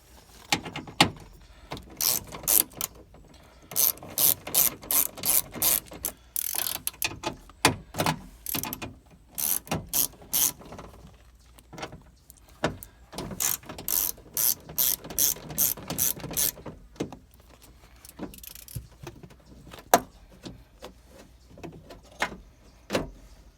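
A ratchet clicks in repeated quick bursts while backing out the three bolts holding a Ford window regulator, close and clear with short pauses between strokes and no talking.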